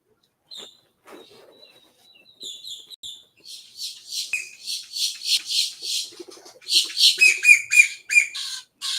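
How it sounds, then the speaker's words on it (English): A bird squawks repeatedly and loudly, harsh calls building into a rapid, rhythmic series, close by and with no talking. "That bird can't get any louder"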